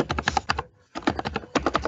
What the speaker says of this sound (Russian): простите за то, что я так сильно стучал по клавиатуре